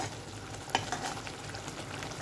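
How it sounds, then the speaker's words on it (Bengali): Spice paste fries in the mustard oil and ghee left after frying fish for a Bengali kalia, a steady moderate sizzle with one brief clatter of stirring and no voices. "সেই তেলের মধ্যে এই মশলাটাকে দিয়ে দিলাম। মশলাটা সুন্দর করে কষাতে হবে"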